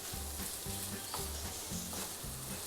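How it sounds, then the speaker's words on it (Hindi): Chicken pieces fry in a pan for a potato chicken omelette, a steady close sizzle with soft scraping of stirring at a regular pace, no voices. "चिकन फ्राई हो चुका है"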